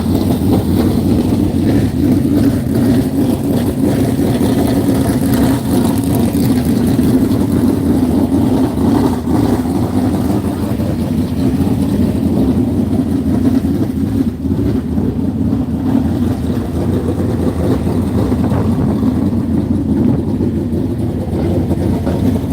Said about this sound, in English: This is the 410 engine right here, you can hear it.